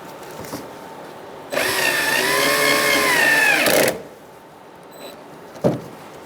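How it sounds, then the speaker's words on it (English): A power drill drives screws that attach the bumper to the body of a 2010–2013 Kia Soul 2.0L. It gives one sustained whirring burst of a couple of seconds, close and loud, followed by faint clicks and a brief knock. "now we're going to put our screws to connect our bumper to the body"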